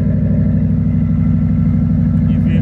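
Engine of a lifted 2007 Dodge Ram 1500 with dual exhaust, a loud, close, steady low rumble with a rapid even pulsing throb and no talking.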